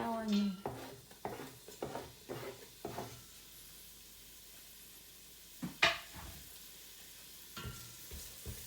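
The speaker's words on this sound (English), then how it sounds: "When the oil is hot, now we put the garlic" Garlic and onion going into hot oil, with several quick clinks and scrapes of a pan, a brief loud burst of sizzling, then quieter frying.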